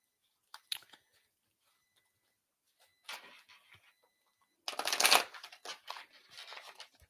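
Playing cards are shuffled close by in quiet, brisk bursts of riffling and crisp crackling, separated by short silences, with no voices.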